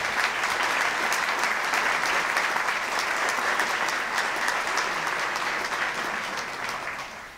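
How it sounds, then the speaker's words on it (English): A large audience at a university engineering groundbreaking ceremony gives a long, dense round of applause, steady and full before thinning slightly at the end. "Let's give Phyllis a great round of applause"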